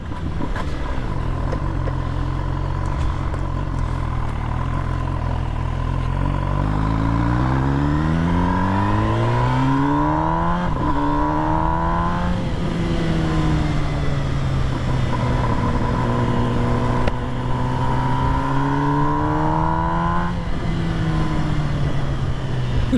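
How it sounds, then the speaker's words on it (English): An MV Agusta Brutale 1000 RS sport motorcycle engine revs up through the gears while riding, pitch climbing and dropping with each shift, loud and continuous. "The sound of this bike."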